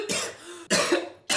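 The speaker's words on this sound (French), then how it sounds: "Pourquoi tu tousses?" A person coughs three times in quick succession, each a sharp, close burst with a raspy tail.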